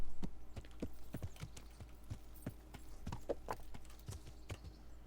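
Horse hooves clip-clop steadily in the Kingdom Come: Deliverance video game, a run of sharp, close knocks in an uneven trotting rhythm with no one talking.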